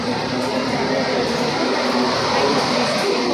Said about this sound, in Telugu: ఇక్కడ ట్రైన్ అయితే వెళ్ళిపోతుంది